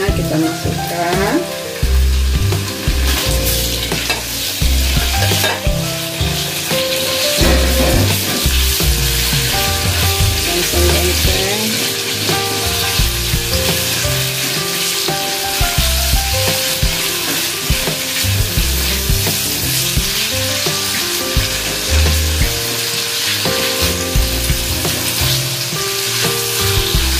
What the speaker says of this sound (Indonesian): Ini daging ayamnya kita masukkan.